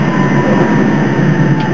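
A T3RP tram climbing a steep hill gives a loud, steady rumble and motor drone with faint high whine, continuous and close throughout.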